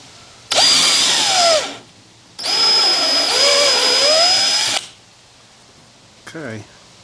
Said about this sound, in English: You can see the plastics melting on the drill.